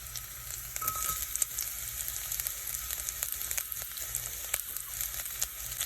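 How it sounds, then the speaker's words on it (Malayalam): Ginger and garlic sautéing in a pan for tomato chutney, a steady close sizzle and crackle with occasional stirring scrapes, no talking. "ഇനി എല്ലാം കൂടി നന്നായിട്ടൊന്ന് വീണ്ടും വഴറ്റി കൊടുക്കാം."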